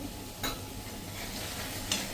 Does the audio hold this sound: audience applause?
no